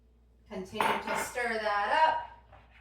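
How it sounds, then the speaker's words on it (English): A spoon stirs honey in a mixing bowl for apple oatmeal bars, a short burst of scraping and clinking against the bowl, close and moderately loud. "Go ahead and start stirring that up to get that honey off my spoon"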